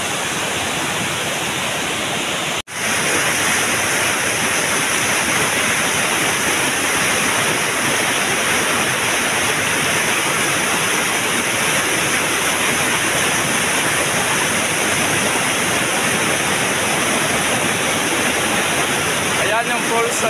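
San Ramon Falls pours steadily in a loud, continuous broadband roar of rushing water, close and unbroken for the whole stretch apart from one brief dropout near the start.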